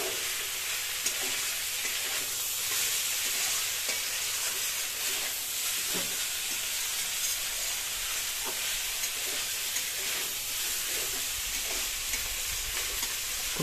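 Potatoes frying with spices in a pan for a prawn and cauliflower biryani, a steady close sizzle with light stirring scrapes throughout and no talk.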